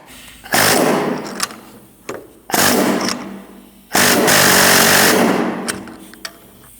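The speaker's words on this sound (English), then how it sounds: "So now we're going to take our race off by using an air chisel" An air chisel hammers loudly on the front wheel bearing race of a 2008–2014 Mercedes-Benz C300, firing in several harsh rapid bursts separated by brief pauses.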